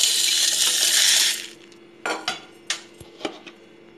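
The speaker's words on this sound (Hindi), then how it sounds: "अब इसे मिक्सी के जार में डालकर पीस लेंगे।" A kitchen mixer grinder blends cooled spices for homemade pav bhaji masala in a loud whirring burst. It stops after about a second and a half, followed by several sharp clinks of the jar and lid.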